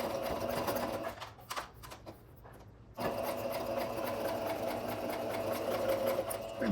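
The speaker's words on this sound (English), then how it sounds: "We're at the sewing machine now" Sewing machine stitching around a pocket on a New Look 6737 garment, running in steady continuous bursts close up, with a brief pause in the middle before stitching resumes loudly to the end.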